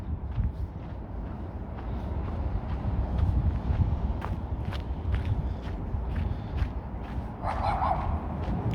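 A small dog barks in short sharp bursts during an icy walk in Traneberg, Stockholm, the yips fairly near over the crunch of footsteps.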